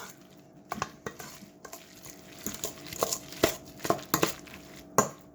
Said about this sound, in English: Okay, I'm going to mix this together